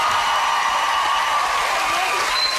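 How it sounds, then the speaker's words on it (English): A television game-show studio audience applauds a family, a steady, dense wash of clapping and cheering that fills the whole stretch at close range. "Give a big round of applause to the Jones family."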